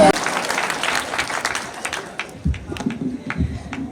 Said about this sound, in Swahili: Makofi jamani kwa Joy Millers.